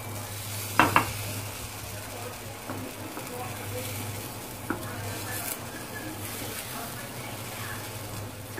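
Garlic and onion fry in a pan with a low, steady sizzle, broken by a couple of sharp utensil knocks early on and a few softer stirring scrapes later.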